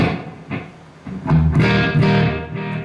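A clean electric guitar plays a few chords and notes, with a soft reverb tail and echoing repeats lingering between strums.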